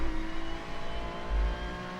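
A GT3 race car engine in the iRacing video game drones steadily at close range, with a brief low surge near the end that may mark a gear shift.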